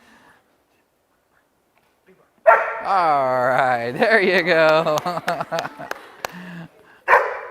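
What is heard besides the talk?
personal protection dog barking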